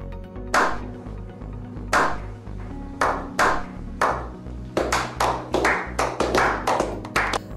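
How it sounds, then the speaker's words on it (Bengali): Scattered hand claps from a small audience at a talk about humans going to Mars, starting as isolated separate claps and growing into quicker clusters toward the end, crisp and close with quiet gaps between. "আর তার জন্য তাকে একটা জোরে হাততালি দেওয়া যাক"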